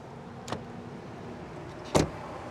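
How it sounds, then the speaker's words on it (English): A door on a 2022 Jeep Grand Cherokee L Summit is shut, a faint click followed by one solid, muffled thud about a second and a half later, alone against quiet background hum. "let's hear how the door sounds."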